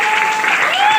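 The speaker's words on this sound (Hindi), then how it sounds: "राहुल ने जोरदार ताली" Loud, dense applause from an audience at a motivational speech, a brief close burst of clapping with a whistle-like tone gliding through it.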